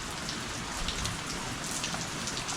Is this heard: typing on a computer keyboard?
no